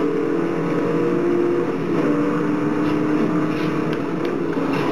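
A Bugatti in Forza Horizon on an Xbox 360, racing down a highway with other fast cars, engine droning in a steady loud roar that holds throughout without talk.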